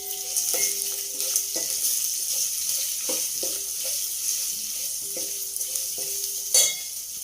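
Asafoetida goes into hot oil for pepper rasam, giving a steady close sizzle broken by repeated light stirring clinks and scrapes in the pan, with no talk.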